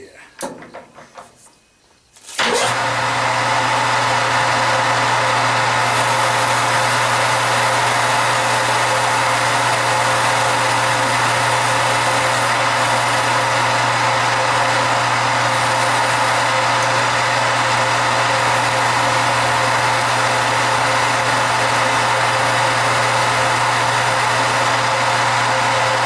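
A lathe machining a knob for a Delta band saw runs as a steady, loud mechanical drone that starts abruptly after a brief quieter opening and holds evenly to the end.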